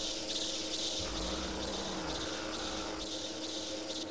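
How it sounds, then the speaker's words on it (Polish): Mosquitoes buzz in a stable area of the Heavy Metal: FAKK 2 video game, a steady, dense insect drone that fills the scene throughout with no talking. "komary to są."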